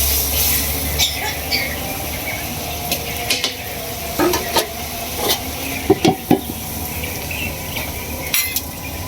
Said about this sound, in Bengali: মাছটা দিয়ে দিতেছি